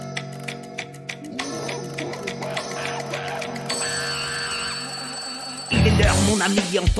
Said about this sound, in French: Le gong de la sonnerie résonne à tes oreilles.